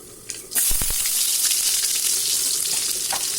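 About ten peeled garlic cloves drop into hot oil and burst into a loud, bright sizzle that stays steady and close, with a few spatters and pops at the start.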